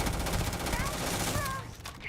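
SMG gunfire in the Starfield video game, rapid dense automatic bursts close up that carry on for most of the moment before cutting off, with faint music tones mixed in.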